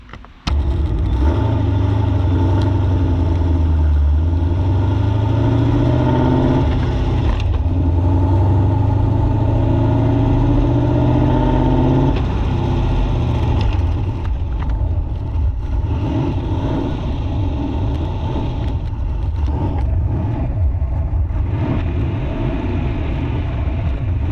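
Modified LS V8 engine swapped into a BMW E36 runs steadily at close range, with a deep low rumble and a few rises in pitch before settling into a rougher, lumpier idle.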